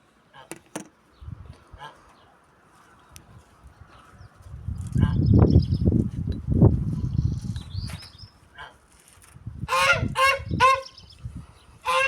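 Several loud goose honks ring out in short bursts over rustling and thumping noise, with a cluster of calls near the end.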